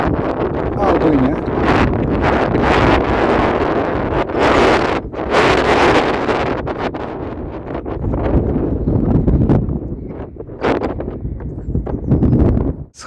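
Strong gusts of wind buffet the microphone in rumbling, uneven bursts near Płock, Poland, loud and close, with someone talking underneath.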